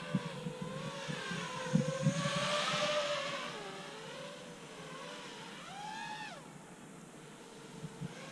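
An LED-lit quadcopter drone flies at night, its whining rotors rising and falling in pitch as it manoeuvres, with a steady moderate hum and a sharp upward sweep near the end.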